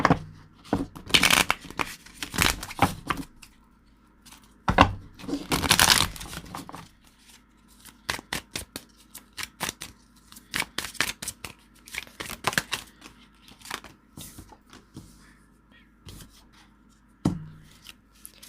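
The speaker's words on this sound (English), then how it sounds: "I'm going to pull some cards for you guys, see what's going on for the month of March" Tarot cards being shuffled by hand for a monthly Scorpio reading, with bursts of riffling and rapid papery flicks alternating with softer sliding and tapping, close and fairly quiet, no talking.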